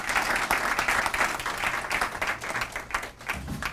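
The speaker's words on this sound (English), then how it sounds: "they deserve a round of applause" Conference audience at a music and medicine lecture gives a moderate round of applause, many hands clapping steadily at a slight distance before thinning out toward the end.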